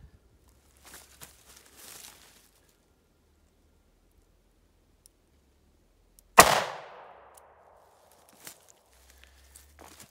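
A single sharp gunshot from a .38 Special +P revolver firing Black Hills Honey Badger 100 grain ammunition cracks out loudly and decays quickly. Faint shuffling and handling noises come before and after it.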